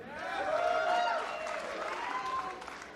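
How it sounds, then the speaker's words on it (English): A wrestling arena crowd cheers and applauds in a steady, loud roar that swells early and stays dense throughout, with excited voices mixed in. "Yeah, cheer for that."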